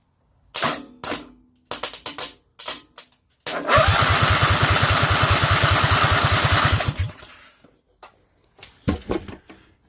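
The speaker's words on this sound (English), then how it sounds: "if I disconnect the power here so that it has nothing, it will spin over indefinitely" Kohler engine with its MDI ignition disconnected, cranking over without firing: a few short bursts of starter noise, then a long rhythmic cranking run of about three seconds, followed by scattered clicks and handling sounds.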